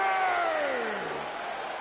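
Virtual arena crowd in WWE 2K20 lets out a loud, sustained cheer and roar that swells briefly and then slowly fades.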